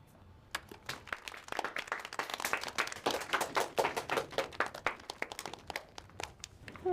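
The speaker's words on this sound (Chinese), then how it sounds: "大家鼓鼓掌" Office staff clap together at a bank workplace meeting after new team members are announced, a dense burst of hand claps building and thinning over several seconds, with no talking over it.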